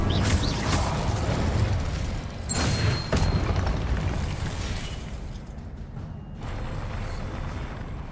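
Incendio fire spell cast in Hogwarts Legacy, a game effect of roaring, crackling bursts with booming surges around two and three seconds, then a sustained rushing blaze easing toward the end.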